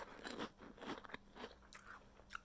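Crunching on a puffy, spicy potato snack like puffed Cheetos: several close, faint crisp bites and chewing crunches in quick irregular succession, with no talking.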